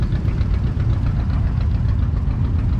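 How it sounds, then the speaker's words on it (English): A John Deere tractor engine runs at an antique vehicle show, a loud, close, low rumbling chug with steady knocking pulses throughout. "Oh, John Deere's getting up and running."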